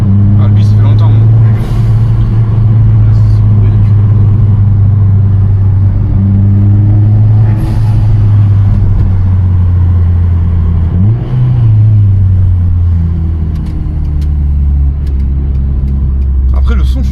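Turbocharged engine of a Dodge Caliber SRT4 droning and rising in pitch from inside the car on a ring road, a steady low rumble with gear-change dips and shifts, heard under occasional cabin chatter.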